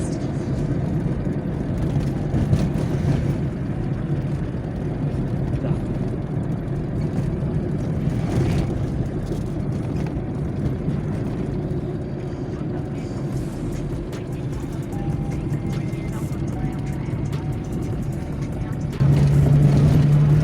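ZAZ 1102 Tavria car driving through town, heard from inside: a steady low engine drone and road rumble holding throughout, growing slightly louder near the end.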